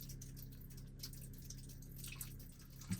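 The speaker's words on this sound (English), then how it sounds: "listen to the water running" Water running and dripping inside a hand-dug rock tunnel that has a flooding problem, a steady low wash with scattered faint drips, quiet and close, no talking.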